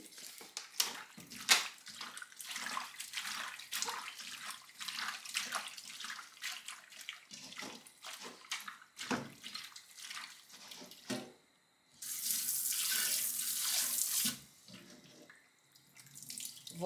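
Tap water runs over beef tripe being washed in a sink, splashing and trickling with irregular handling noises, then a louder steady gush for a couple of seconds before easing off.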